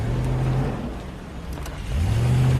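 A car engine revs in two loud, close bursts, dipping briefly in between before climbing again, then cutting off abruptly.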